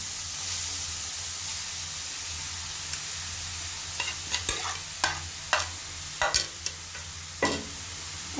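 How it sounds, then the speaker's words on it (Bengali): Chopped carrots frying in ghee with cardamom pods in a pan, a soft continuous sizzle broken by several sharp scraping stirs of a spoon toward the end, close and without speech. "গাজরটাকে আমি ঘিয়ের সাথে ভালো করে কিছুক্ষণ ভেজে নিব"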